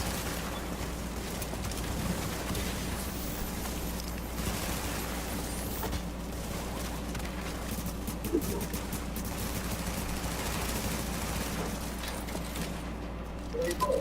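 Steady automatic gunfire rattles through a firefight in The Division video game. The shooting is dense and continuous over a constant low background rumble, with no clear pauses between shots.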